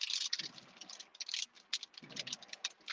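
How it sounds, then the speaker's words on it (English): Car windshield wipers sweeping during a light rain shower, a soft rhythmic rubbing and thumping that repeats about every one and a half seconds, with faint patter of drops on the glass. "Oh, my windshield wipers are so hard."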